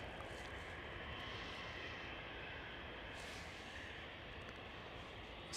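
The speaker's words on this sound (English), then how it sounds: "Looks like KLM 787 is coming towards us as well." A KLM Boeing 787 approaches at Schiphol airport, its engines making a faint, steady, broadband distant roar that holds evenly across the whole stretch with no talk.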